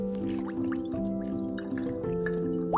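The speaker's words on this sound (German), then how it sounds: "Und dann setzen wir den Joghurtbecher wieder auf die Plastikflasche und gießen Wasser hinein." Water poured into a yogurt cup set on a plastic bottle, a steady close trickle with dripping and rising gurgle tones as the liquid fills, heard alone.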